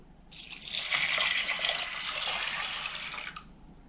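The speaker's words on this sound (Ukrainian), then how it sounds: "та заливаю холодною водою." Cold water pours from a tap into a pot of dried peas as a close, steady rushing stream. It lasts about three seconds, then stops.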